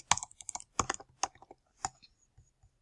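A handful of crisp computer keyboard keystrokes land close and distinct, a short irregular run of clicks separated by silence.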